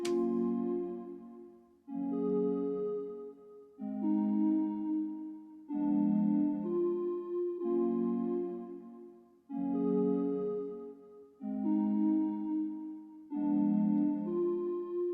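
Soft R&B keyboard chords are plucked in a steady repeating pattern through chorus and delay, each chord swelling and ringing out with a washy, echoing tail.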